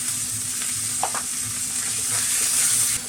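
Ground spices such as coriander and cumin fry with tomato in a pan, a steady close sizzle broken by scraping stirs, with no voices.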